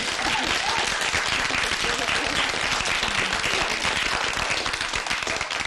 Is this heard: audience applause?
yes